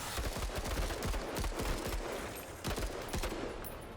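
Dense gunfire from the Menace tactical video game, a rapid string of sharp, loud shots in irregular bursts filling the whole moment, with no voices.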